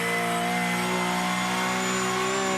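Race car engine in a Cup 2 class car at a sim racing endurance event on the Nürburgring, humming steadily with a sustained tonal whine through a corner, alone with no talk.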